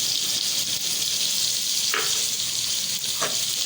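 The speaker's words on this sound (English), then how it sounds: "We have to saute it for 5 to 10 minutes." Aloo masala sizzles steadily in a hot pan as it is sautéed, with a continuous frying hiss and two brief stirring scrapes, close by and with no talking.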